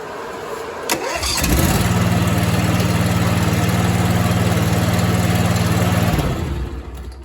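A small engine cranks briefly, catches and runs steadily at a loud, close idle for about five seconds with the choke feathered by hand, then shuts off; no talking.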